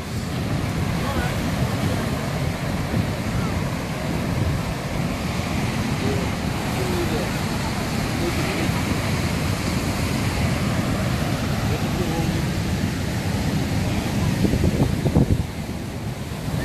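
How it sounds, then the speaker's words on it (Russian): Atlantic Ocean surf and wind on the coast of Côte d'Ivoire, a continuous broad roar of breaking waves with gusts buffeting the microphone, steady and loud throughout with a slightly stronger swell near the end. "Тут же Атлантический океан."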